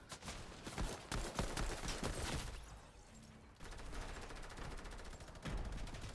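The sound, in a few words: gunfire in a video game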